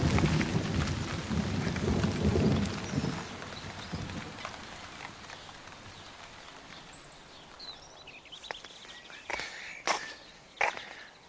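Heavy rain and hail falling on a garden during a thunderstorm, a dense hiss early that eases off, then sharp close cracks and rumbles of thunder near the end.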